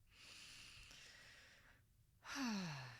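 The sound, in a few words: deep breath in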